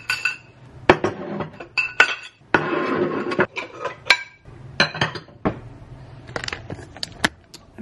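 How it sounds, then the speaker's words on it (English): Dishes, cutlery and glassware are put away in a kitchen, with irregular close clinks, clatters and knocks of plates and utensils and brief pauses between them. "So I'm gonna put some dishes away really quickly."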